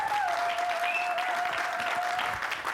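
Congregation applauding during a church service, a steady dense wash of clapping that stays even and loud throughout, with a faint tone over it.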